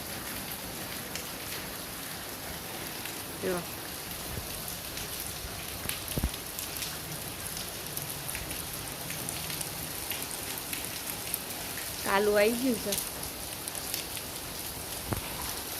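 Steady heavy rain patters down on surfaces, a constant close hiss with scattered drips, while a person briefly speaks over it.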